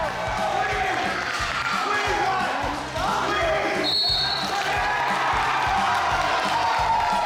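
A crowd roars and cheers at a school wrestling match in a gym as one wrestler lifts his opponent and slams him to the mat. The loud, dense crowd noise continues throughout with voices mixed in.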